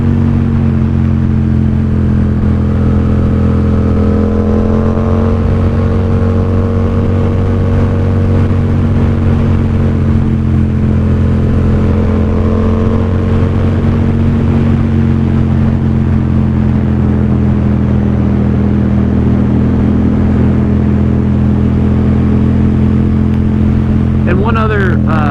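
A Yamaha XSR700 motorcycle is ridden on the road, its engine giving a steady, loud drone with wind rumble throughout. A rider keeps talking over the engine the whole time.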